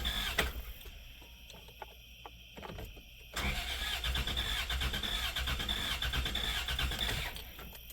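A 1993 Plymouth Grand Voyager SE, sitting unused for 18 years and running with a low cylinder, cranks with a steady uneven churning after a few brief clicks and a pause, fairly close and loud, with no talking.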